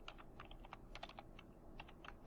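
Rapid, uneven typing on a computer keyboard while entering text into code, with close, crisp key clicks in quick bursts and no talking.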